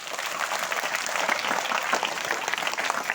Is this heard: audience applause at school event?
yes